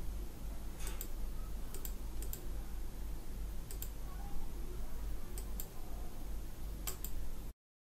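Sparse mouse clicks on a Windows computer during a software installer, a few faint paired clicks spaced a second or more apart over a steady background hiss.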